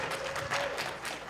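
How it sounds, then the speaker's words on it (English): Audience applause at a film festival awards ceremony, a dense steady wash of clapping from a crowd, moderately loud and continuous throughout. "give a round of applause to Ella"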